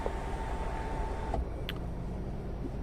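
A Tata Harrier's sunroof closes with a steady electric motor hum inside the cabin that stops abruptly with a soft thud, followed by a faint click and quiet interior ambience.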